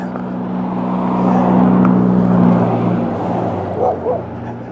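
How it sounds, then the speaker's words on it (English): Road traffic passing a cyclist on a town street in Silver Cliff, Colorado, a steady broadband engine and tire rumble that swells and fades over several seconds, with a low droning hum underneath and no speech. "Quite a bit of traffic today."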